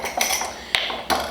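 A metal spoon scoops a tablespoon of brown sugar for a glaze, with a few sharp clinks against a cup or container spaced through the moment.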